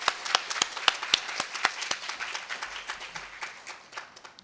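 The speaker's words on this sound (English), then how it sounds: "Can we have a round of applause for those outstanding volunteers?" An audience claps at a Stanford Medicine presentation: distinct, crisp individual claps in a loose rhythm that gradually thin and fade toward the end.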